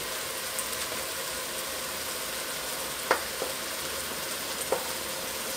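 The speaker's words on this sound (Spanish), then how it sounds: "Y lo dejamos que siga sofriendo." Sofrito frying in a pan with saffron and seasoning for a vegetable and salt-cod locrio, a steady close sizzle with a couple of brief sharp pops from spatters.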